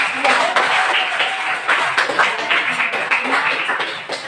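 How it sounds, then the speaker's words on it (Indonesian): Classmates clap after a group presentation in a school classroom, loud and close, with individual hand claps audible in an uneven, pulsing rhythm and a few voices mixed in. "Berikan tepuk tangan teman-teman"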